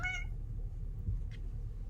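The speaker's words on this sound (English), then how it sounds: "This is my cat Juniper." Juniper, a female pet cat, lets out one short, faint meow at the very start over a low steady room hum, then falls quiet.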